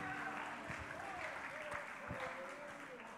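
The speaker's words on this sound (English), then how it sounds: "give the Lord a hand clap of praise" A church congregation claps together in a dense, continuous patter of applause, with a voice calling out faintly over it.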